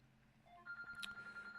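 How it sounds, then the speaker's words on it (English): A phone alarm starts up quietly, a rising electronic tone that swells into a steady ringing melody, fairly faint and alone. "That's not even the phone, it's my alarm."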